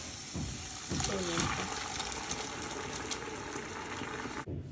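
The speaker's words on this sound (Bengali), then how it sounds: "এবার আমি স্যুপটা দিয়ে দেবো স্ট্রেট" Soup poured straight into a cooking pot, a steady watery gush and trickle running for several seconds at close range before cutting off near the end.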